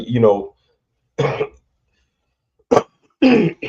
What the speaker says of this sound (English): I got this fucking cough that just won't go away.